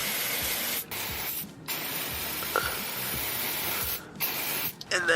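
AMSOIL metal protector sprayed from an aerosol can onto a diesel truck axle, a loud close hiss in long continuous bursts separated by brief pauses, with faint clicks from the nozzle.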